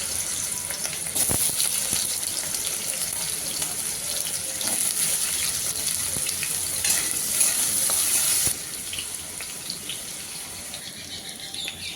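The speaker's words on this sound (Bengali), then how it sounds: "প্রথমে আমি আলুগুলো ভেজে নেব।" Potatoes fry in mustard oil in a wok, a close, steady sizzle with occasional stirring scrapes that drops noticeably quieter near the end, with no speech.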